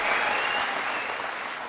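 Sustained applause from a studio audience at a televised courtroom-style interview show, steady and fairly loud throughout, slowly easing off toward the end with no talking over it.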